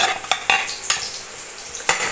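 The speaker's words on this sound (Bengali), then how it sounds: "পেঁয়াজগুলো আমি লাল লাল করে ভেজে নেব।" Chopped onions frying in oil in a pan while being stirred, a constant sizzle broken by several sharp scraping strokes of a spatula against the metal, close and fairly loud.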